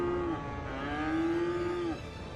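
A cow moos in a farming video game. It is one long, drawn-out low moo lasting nearly two seconds, clear and close, with a soft ambient bed beneath it and no talking.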